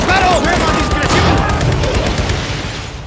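Rapid bursts of gunfire and heavy booms from a lone tank battling a German army, loud and dense, with shouted voices mixed in over the din of combat.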